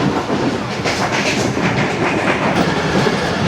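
A passenger train running on rails near Kotri in Pakistan, a loud close rumble with a clear clickety-clack of wheels over rail joints repeating steadily, with no voices.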